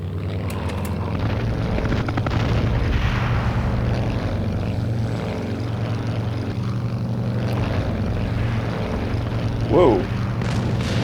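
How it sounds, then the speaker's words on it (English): Enemy rockets fired by ground units in a combat game burst into heavy booms over a constant droning aircraft propeller hum, with thudding impacts rolling through the mix and a short sharp burst near the end. "Those are enemy rockets from ground units."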